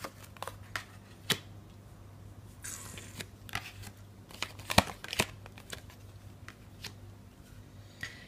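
Tarot cards being drawn and handled from a deck, giving soft papery shuffles and brief crisp flicks and taps at irregular intervals, close and quiet, with a faint steady hum underneath and no talking.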